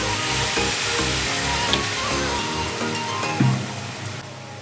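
Water hits a hot pan of raw mango chutney with chili flakes, setting off a loud, continuous hissing sizzle close by that bubbles steadily and eases off slightly at the end.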